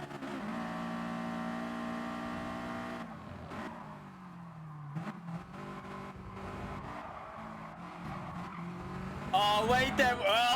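A race car in Gran Turismo Sport, its engine droning steadily before the tires squeal and skid under heavy braking, followed by scattered engine and tire noise and a rising rev near the end, with a voice talking at points.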